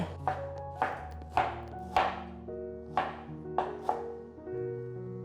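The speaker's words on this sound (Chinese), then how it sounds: "金针菇冲洗干净了，现在来切碎。" A knife chops rinsed enoki mushrooms on a board in about seven crisp, close thuds at a steady, unhurried rhythm, with no talk.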